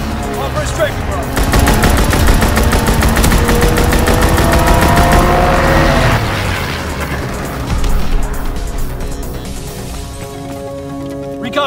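Rapid strafing-run gunfire in Call of Duty WW2 multiplayer, a loud sustained burst of machine-gun fire lasting several seconds, then scattered shots and explosions fading under a distant battle din.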